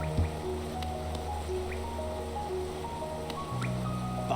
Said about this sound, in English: The city looks to be built into an enormous cavern, and the rain pours down from cracks in the stone above